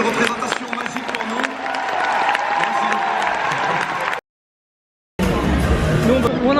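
A theatre crowd at a Molière performance claps and cheers in a loud, dense burst with murmuring voices. After a sudden cut to silence, the applause returns briefly.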